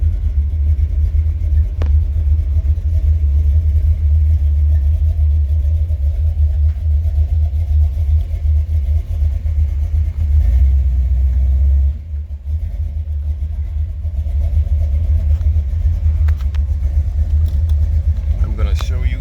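A Buick Regal with a 455 Stage-1 V8 idles with a deep, loud, continuous rumble as the car creeps forward on torque alone with the brake held, and the engine briefly softens midway.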